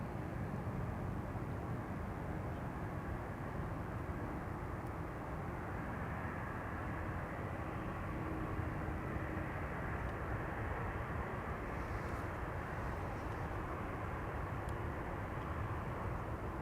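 An airplane departs from runway 18L at Amsterdam Schiphol Airport, its steady broadband jet roar filling the whole stretch at an even, sustained level without a clear rise or fade.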